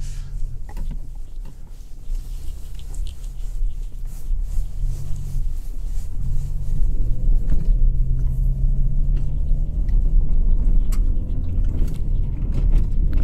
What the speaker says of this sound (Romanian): Practic am 50 la oră pe macadam.